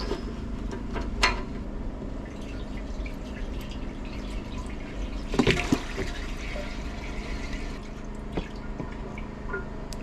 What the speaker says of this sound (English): Let's add some coolant.